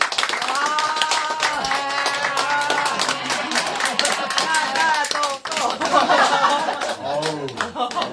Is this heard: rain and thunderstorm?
no